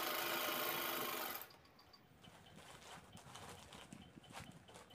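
A sewing machine stitches the margin of a handbag in a brief loud burst of rapid whirring that stops after about a second and a half, leaving faint handling clicks and rustles.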